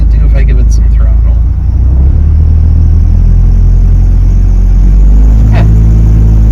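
Supercharged Toyota 22RE engine in a 4Runner at operating temperature, loud and close, its throttle blipped into a rumbling rise and fall, then a second rev near the end.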